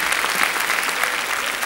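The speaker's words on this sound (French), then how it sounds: "je vais demander à la première candidate de faire quelques pas sous les applaudissements du public" Audience in a packed town hall at a French televised games show in Charleroi applauding steadily, a dense, even wash of clapping that holds at full strength without pause.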